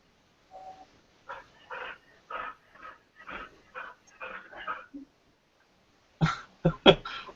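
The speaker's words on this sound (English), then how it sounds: "I can hear that panting." Heavy panting in rhythmic, breathy bursts, loud and close, after a run of softer voice-like sounds; it does not clearly sound like a dog.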